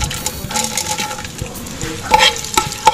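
Annatto seeds are stirred in hot frying oil in a pan, a bright crackling sizzle with scraping spoon strokes and a few sharp metallic clinks, close and fairly loud.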